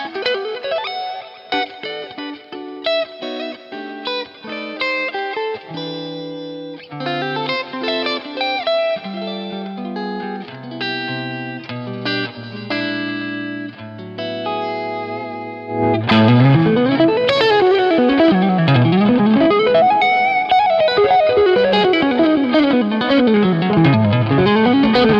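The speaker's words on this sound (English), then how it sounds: "it's this Vox style sound, super dynamic" Electric guitar through a Two Notes Genome Vox-style amp preset, played alone as clean-ish, dynamic picked single notes and chords, then swelling into a louder, more driven strummed passage with a rich, chiming edge.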